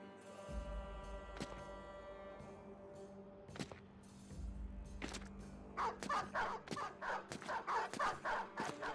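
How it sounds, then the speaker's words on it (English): A pack of dogs barks repeatedly in the video game Battle Brothers, scattered sharp barks at first, then a denser flurry of overlapping yelps, layered over a quiet sustained musical drone. "Whole lot of dogs."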